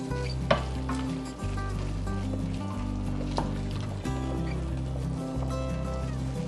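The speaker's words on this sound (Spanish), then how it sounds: "le agregamos la cebolla y los dientecitos de ajo y pochamos aproximadamente por unos 2 minutos" Chopped onion and garlic cloves sautéing in a pan, a continuous close sizzle with occasional sharp pops and stirring clicks over a steady low background hum.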